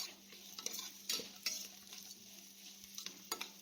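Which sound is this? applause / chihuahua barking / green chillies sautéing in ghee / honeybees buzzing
green chillies sautéing in ghee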